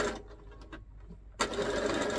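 A sewing machine stitching organza with fishing line, its motor whirring steadily, pausing briefly, then resuming with a louder close running hum.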